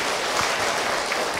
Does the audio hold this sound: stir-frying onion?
no